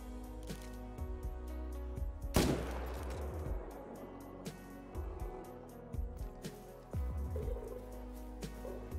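Hunting rifle shot in the Call of the Wild game, one sharp loud crack with a ringing decay amid quieter clicks and ambient game sound, no talk over it.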